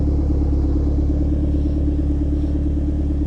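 A cold Ford Focus RS engine with a forged build warms up on stands, producing a loud, steady idle rumble that holds constant and close with no change in pitch.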